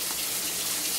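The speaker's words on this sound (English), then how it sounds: "Gradually, you just want to add water to this" Water is poured into a bowl of flour and salt to make dough, giving a continuous, close splashing gush for the whole brief moment, with no talk.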